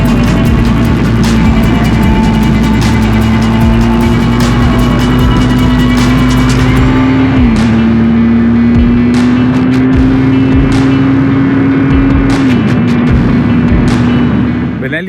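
A Benelli TRK 502 X motorcycle cruises steadily on a highway, its engine holding a constant drone under heavy wind rush, with one brief dip in pitch like a gear shift midway.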